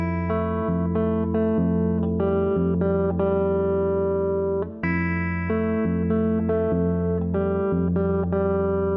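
Guitar playing the altered third-chorus bar of a song, a steady run of clear ringing picked notes with sustained low tones, played alone with one brief break midway.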